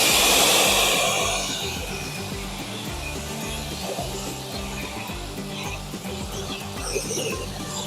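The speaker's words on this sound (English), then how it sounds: "We're just going to pressure wash it off now." A pressure washer rinses soaked-in degreaser and six weeks of outback dust off a 4x4, giving a steady, close hissing spray that is loudest at first and then settles to a slightly softer, continuous wash.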